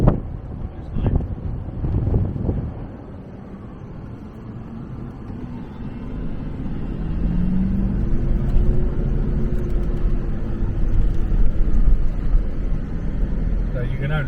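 A Toyota Land Cruiser drives across the sand dunes of the Qatar desert, its engine a low continuous rumble beneath heavy wind buffeting the microphone, swelling louder toward the end.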